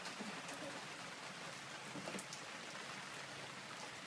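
Rain falls steadily outdoors, a soft continuous hiss of drops hitting surfaces, even and unbroken throughout.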